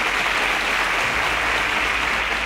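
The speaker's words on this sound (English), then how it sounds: "A round of applause for them." Studio audience applauding quiz show contestants who answered correctly, a loud, dense, even wash of clapping held at a constant level from start to end.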